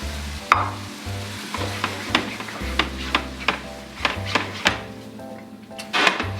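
Bolognese sauce being stirred into rigatoni in a hot pan, steady sizzling with a rhythmic series of sharp utensil scrapes and taps against the pan, close and fairly loud, no talking.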